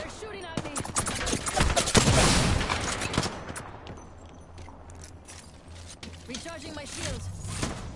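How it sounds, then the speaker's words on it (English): Gunfire in the video game Apex Legends: rapid bursts of automatic weapon fire and sharp shots crackle close by, with mechanical clicks and game effects mixed in, heaviest early and then returning in scattered volleys. "They're shooting at me!"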